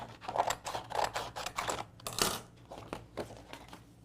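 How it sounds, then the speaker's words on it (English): Holographic cardstock cut on a cutting mat while making a simple card: a quick series of close, crisp snips and scratchy paper slices in an irregular rhythm, heard alone without talk. "I'm just gonna cut off a small section."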